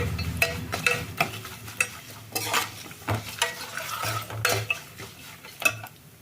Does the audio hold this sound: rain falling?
no